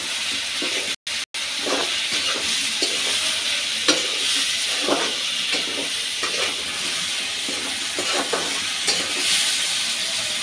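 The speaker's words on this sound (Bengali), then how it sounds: "পানি তাড়াতাড়ি শুকানোর জন্য আমি জুড়ে জাল দিয়ে এগুলো ভাজা করতেছি।" Long beans frying over high heat in a pan to drive off their water, for a vegetarian long bean and flat bean mash; a steady, close sizzle and hiss continues throughout, with occasional stirring scrapes and no talking.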